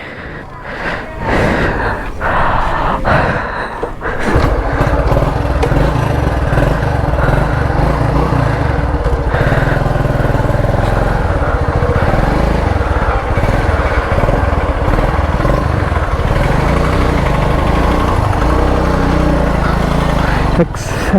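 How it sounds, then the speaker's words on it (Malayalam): A motorcycle engine with the silencer shell removed runs loud and raw, a steady close roar that lasts nearly the whole stretch after a short start, with a voice talking over it. "സൈലൻസറിൻ്റെ ഷെല്ല് കളഞ്ഞിട്ടുണ്ട് അതിനാണ് ഇത്ര സൗണ്ട്"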